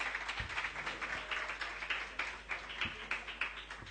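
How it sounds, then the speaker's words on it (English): Audience at a Garvey tribute event in 2014 clapping for contestants, a steady rippling patter of many hands with a few sharper claps standing out, moderately distant with no talking. "Give a big round of applause for our contestants."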